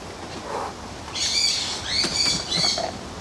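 Owl, a large bird of prey, likely a male, giving several short high calls and squeaky chirps spaced over a few seconds, close and fairly clear against a quiet background with no talk.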